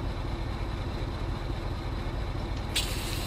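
Short pneumatic hiss of an air brake releasing on a Mercedes truck in Euro Truck Simulator 2, a sharp burst near the end over the steady low rumble of the idling engine.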